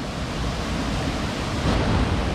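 A waterfall pours into a river lagoon, a loud, steady broadband rush with no pauses, close by and alone.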